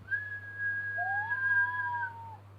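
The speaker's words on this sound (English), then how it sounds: "Then he heard a whistle." A steam engine whistle in a Thomas the Tank Engine story sounds as two overlapping, sustained tones, one higher and one lower, over a low steady hum, lasting about two seconds.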